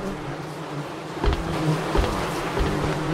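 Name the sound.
buzzing bugs in a video game, Eclipse horror game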